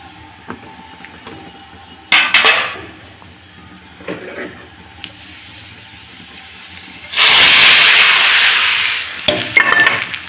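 Reddish fried onions go into cooking mashkalai dal, with sharp clatters and short hisses followed by a loud, sustained sizzling burst as they hit the pot, then a few more utensil knocks.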